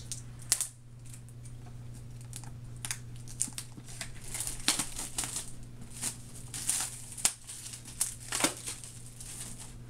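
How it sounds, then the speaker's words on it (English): Plastic wrap being pulled and torn off a Halo: Reach Legendary Edition box, giving a run of close crinkling and crackling bursts with sharp snaps over a steady low hum and no talking. "Get this plastic off."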